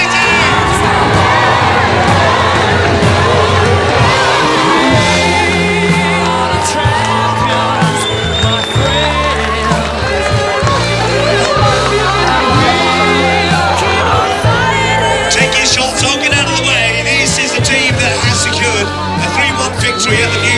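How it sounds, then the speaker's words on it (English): A large outdoor crowd cheers, whoops and shouts as the victorious Truro City team comes onto the stage after the 2007 FA Vase final, a loud continuous roar with children's shrieks and a voice over it. "Coming onto the stage, give a big round of applause, Truro City!"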